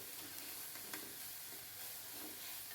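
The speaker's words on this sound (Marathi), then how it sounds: "कांदा जरा जास्त वेळ परतू द्यायचा आहे चांगला मऊ होईल असा आणि थोडा लालसरही झाला पाहिजे" Onion sautés in a pan for a val bean birda curry, giving a soft, continuous sizzle with faint stirring scrapes at a low level.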